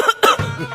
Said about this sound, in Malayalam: നീ ചുമക്കുന്ന കേൾപ്പിക്കാനാണോ എന്നെ ഈ സമയമില്ലാത്ത സമയം?